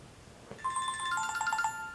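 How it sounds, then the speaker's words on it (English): A mobile phone ringtone plays a short melodic pattern of repeated electronic tones, starting abruptly after a soft click and continuing steadily at moderate loudness with no talk. "My phone wants to ring and nobody ever calls me."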